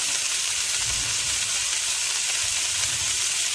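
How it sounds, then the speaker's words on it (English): Beef sears in a pan, a dense continuous sizzle and hiss up close, loud and unbroken, with faint low bumps beneath. "we're just going to sear this right quick"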